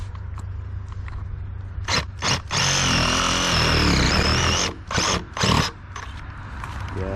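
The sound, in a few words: reciprocating saw cutting drain pipe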